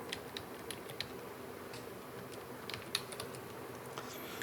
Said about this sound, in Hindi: मैं आपको टाइप करके बता रहा हूँ